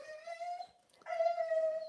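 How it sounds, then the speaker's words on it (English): A dog whimpers at home, two drawn-out high whining cries separated by a brief pause, fairly close and alone with no talk. "my dog whimpers"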